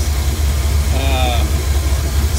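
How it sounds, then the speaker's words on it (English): A car engine runs at a steady idle, a loud, constant low rumble that continues throughout while a person talks over it. "Okay, the engine's still running. It's been running now for a couple minutes."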